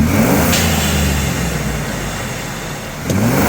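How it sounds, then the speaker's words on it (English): A Ford Bronco engine revs in neutral, roaring up loudly and close, with a turbo blow-off valve giving a swooshing release as the revs drop, repeating twice. "let's see how loud it is when you rev it on neutral"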